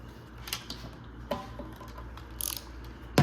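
A socket wrench tightening the nut on a toilet bolt, giving soft, sparse ratchet clicks and light mechanical ticks up close, with a slightly louder rattle near the end, no speech.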